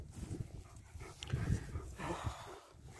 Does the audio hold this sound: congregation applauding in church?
no